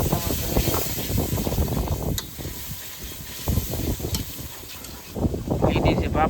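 Strong wind buffets a fishing boat out at sea, a steady rushing roar with gusts that swell near the start and end, while people talk over it.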